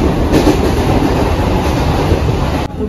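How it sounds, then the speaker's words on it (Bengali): A passenger train on the way to Khardah carries a steady loud rumble of wheels on the rails with rhythmic clickety-clack, heard from inside the carriage, with no voices, until it cuts off abruptly near the end. "আমি অনেক দিন পর ট্রেনে উঠেছি।"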